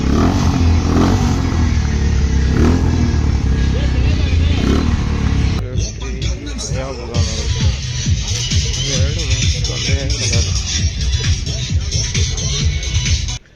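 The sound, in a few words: motorcycle engines revving at a bike track event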